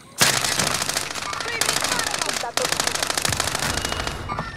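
Heavy video game bombardment with rapid machine-gun bursts and explosions, loud and continuous apart from a brief dip, with a voice talking over the barrage.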